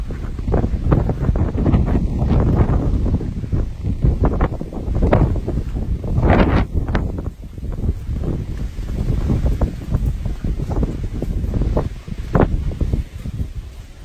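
Strong wind buffeting the microphone in loud, gusty bursts that rise and fall continuously.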